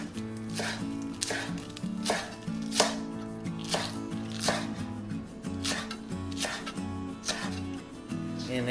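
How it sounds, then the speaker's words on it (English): A knife slicing green onions diagonally on a cutting board gives a brisk, even run of about a dozen close, crisp chops over a light background hum. "I'm going to slice green onions diagonally."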